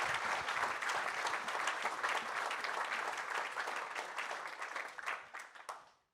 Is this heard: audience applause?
yes